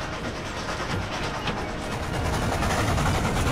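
A train rolling along in the western game Gun, a steady rumbling clatter of wheels on track with a hissing wash over it, close and continuous, growing slightly louder toward the end.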